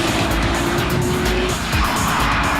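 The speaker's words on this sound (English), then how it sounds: "Entering the Fuji battle for the first time is the second generation NSX Type R." A second-generation Honda NSX Type R races at Fuji Speedway, its engine roaring loud and close with tire squeal over a dense, steady rush of noise.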